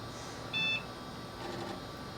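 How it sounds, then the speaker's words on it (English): A video game console gives a single short, clear electronic beep at startup, faint against a quiet hum. "That beep."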